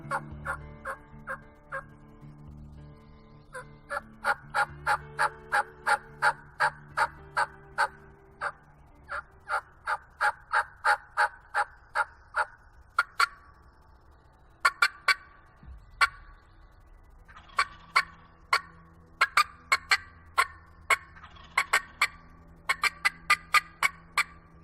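Wild turkeys gobbling outdoors, with repeated rapid bursts of rattling gobbles in fast rhythmic series over half a minute, some nearer and louder, others overlapping and fainter, and no talk.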